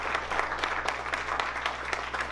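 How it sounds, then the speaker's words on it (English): Applause for election candidates at a Vanderhoof candidates forum, a small audience clapping steadily with individual claps distinct, moderately loud and close. "let's have a round of applause for our candidates."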